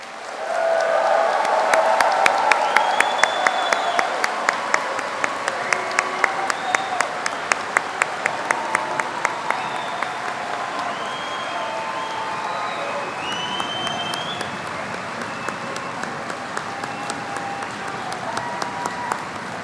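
Rowdy crowd at a university commencement ceremony for engineering, mathematics and science graduates applauds and cheers loudly, sustained clapping with whoops and shouts filling a large hall for the full stretch.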